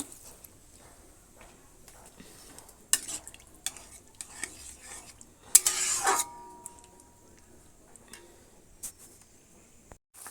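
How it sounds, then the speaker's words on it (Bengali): Vegetable curry cooks in a pot on the stove, quiet apart from scattered clinks and scrapes of a spoon against the metal, with one brief louder clatter midway. "এই যে ঝোলটা ফুটে উঠেছে"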